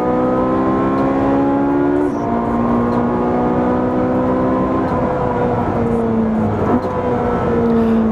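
A Ferrari 458 Speciale engine roars steadily at high revs, pitch dipping briefly at gear changes as it drives fast and continuously.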